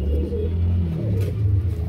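Pigeons kept in cages at a pigeon sale coo in a low, continuous murmur that runs steadily throughout, with a faint rumble underneath.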